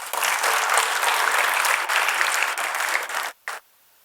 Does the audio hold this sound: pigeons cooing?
no